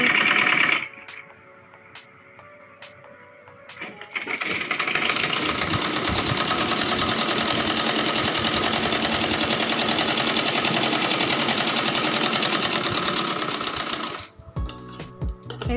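Sewing machine stitching a Rajputi kanchali, starting with a few light clicks and taps, then a loud, steady close-up mechanical whir that runs for about ten seconds before stopping, followed by brief handling clicks.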